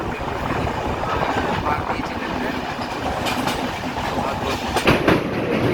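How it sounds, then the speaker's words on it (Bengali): A passenger train runs on the Visakhapatnam–Araku line through tunnels and over bridges, a loud steady rumble with rhythmic clickety-clack of wheels on rails. "ট্রেন চলেছে"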